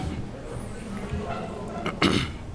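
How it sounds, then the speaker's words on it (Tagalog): A single harsh cough from a deacon preaching a sermon bursts out near the end, close and loud, after a stretch of low background noise. "medyo inuubo-ubo pa tayo"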